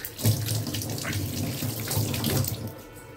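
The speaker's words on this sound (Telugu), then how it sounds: "సో ఇప్పుడు నేను హ్యాండ్ వాష్ చేసుకొని" Running tap water splashing over hands being washed at a sink, a close, steady gush with uneven rubbing splashes for a few seconds, no talk.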